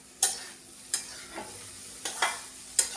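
A spatula scrapes and stirs jaggery melting in a pan for ukadiche modak, sharp scraping strokes at irregular intervals over a faint low sizzle, no speech.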